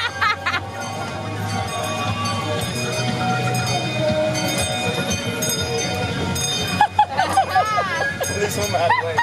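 Passenger train ride at an aquarium rolling toward its depot, a steady rumbling and rattling ride with squealing wheel tones, crowd chatter and laughter around it, and livelier voices near the end.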